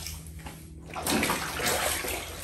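Water is poured into a basin to rinse laundry during hand washing, a quiet trickle that swells after a second into a louder, steady splashing pour close to the microphone.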